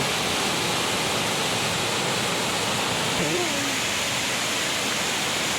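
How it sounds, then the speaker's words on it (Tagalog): Steady, full-band rush of a clear waterfall at a scenic nature spot, loud and continuous throughout, with a brief faint voice-like trace partway through. "Napakaganda sa waterfalls."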